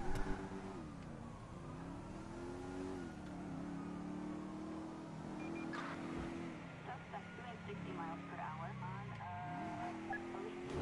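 A car engine in GTA 5 revs and accelerates, its pitch rising and dipping through gear changes, steady and moderately close, with street noise and a talking voice mixed in.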